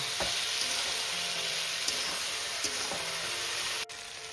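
Cauliflower and radish stalks with ground mustard and spices being sautéed in a pan, a loud, continuous hiss of frying with a few faint stirring taps, close up and without speech.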